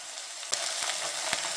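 Cauliflower, beans and a pinch of salt hiss and sizzle in a hot pan for vegetable sagu curry, a steady frying crackle broken by a few sharp clacks as the pieces land and get moved around, with no talking.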